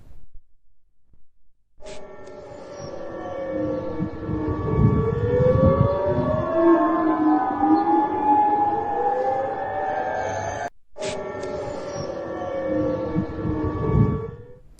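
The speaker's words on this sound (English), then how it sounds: "Let's listen into the sirens." Air raid sirens in Bahrain during Iranian drone strikes wail, rising and falling in long overlapping sweeps, loud and continuous, with a brief cut partway through before the wailing resumes.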